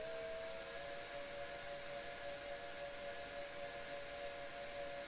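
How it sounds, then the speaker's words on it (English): An LNER A4 steam locomotive whistle in Train Simulator Classic gives a long, steady chime-like tone over a soft hiss. It is moderately quiet and continues through the whole stretch without a break. "Whistle 3 sounds like this."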